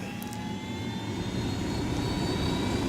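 A steady, droning helicopter engine hum in Ghost Recon Wildlands with a faint high whine, constant and moderately loud throughout, without any voices.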